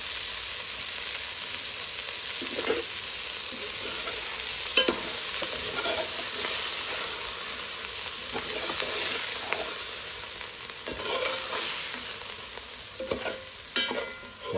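Shrimp and eggs stir-fried in a frying pan: steady sizzling frying hiss runs throughout, broken by intermittent scraping clinks of a utensil stirring the food, close and moderately loud, with no talking.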